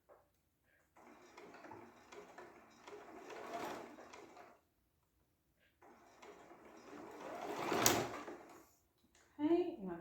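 Sewing machine stitching curved quilt block seams, running in two bursts of several seconds each with a pause between, moderately loud and close.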